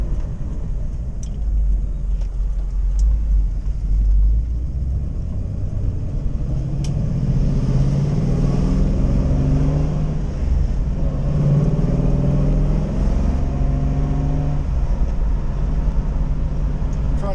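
A 1977 Pontiac Trans Am's modified V8, tuned to roughly high-300s horsepower, rumbles low and loud from inside the car on a ride, with deep engine tones shifting as it pulls and a few faint clicks above.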